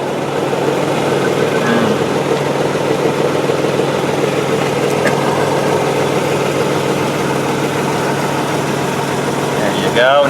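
A 2004 Land Rover Freelander SE's 2.5-liter V6 idles with a steady, even low rumble heard up close, running unchanged throughout, with a brief clatter near the end.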